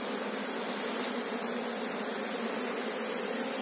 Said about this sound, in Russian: Я просто не ожидал, что такой крупный рой